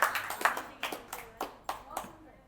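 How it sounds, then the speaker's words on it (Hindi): Applause at a televised Holi poetry gathering comes as a run of separate claps in a steady rhythm, fairly close and moderately loud, with a voice heard faintly underneath. "एक बार जोरदार तालियां"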